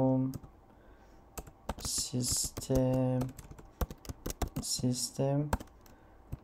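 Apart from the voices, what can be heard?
typing a command on a computer keyboard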